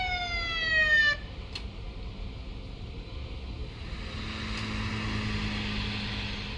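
Ambulance siren in the Police Simulator: Patrol Officers video game, a loud wailing tone for about a second at the start that cuts off abruptly, leaving a low steady rumble of ambient traffic noise.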